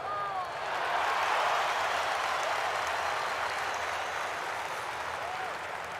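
Sustained crowd applause in the EA Sports PGA Tour golf video game, a broad steady wash of clapping that swells early and holds at a moderate level, with faint speech-like murmur beneath.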